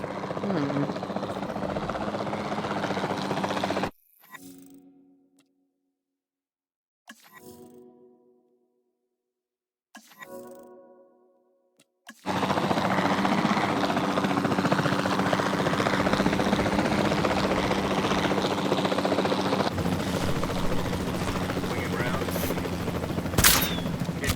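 Helicopter rotor and engine drone from the capture team aircraft in Jurassic World Evolution 2, a loud steady whir that cuts out for several seconds with brief bursts, then resumes continuously under game sounds.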